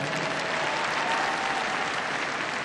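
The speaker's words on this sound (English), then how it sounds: "Give him a round of applause." An audience at a freestyle heelwork to music dog show claps in a continuous, dense round of applause that stays steady and fairly loud from start to finish.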